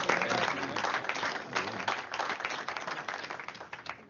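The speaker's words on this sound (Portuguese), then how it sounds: "Palmas pro Ned." A crowd applauds Ned, dense sustained clapping from many hands that stays loud throughout and tapers slightly toward the end, with faint crowd murmur underneath.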